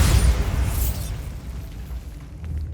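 A Bombarda spell detonates in Hogwarts Legacy, a loud close blast with a deep rumbling boom that decays gradually into a lingering low roar.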